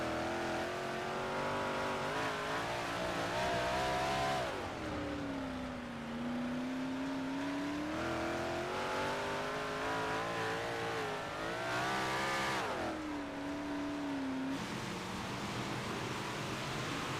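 Big block modified race cars roar around Lernerville Speedway in a heat race. Loud engine tones rise and fall as the cars accelerate and back off through the turns, with several cars heard together.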